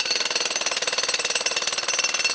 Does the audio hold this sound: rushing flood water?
no